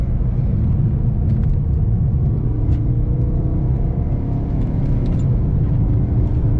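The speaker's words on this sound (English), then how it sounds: "Track out all the way, hard on the throttle, then back down on the brakes." A race car on the Thunderhill circuit at a GT track event, heard as a loud, continuous engine drone close to the car that surges and eases slightly under throttle and braking, with no voices.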